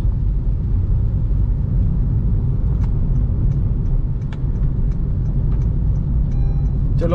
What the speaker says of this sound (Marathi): याला पहिले ओव्हरटेक करू, नाहीतर हा तर आपल्याला जाऊन देणार नाही.